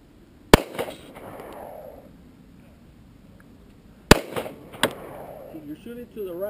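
A .38 Special revolver fires outdoors: a single sharp report, then after a pause two more shots in quick succession, each a loud crack with a short echo. A voice speaks between the shots.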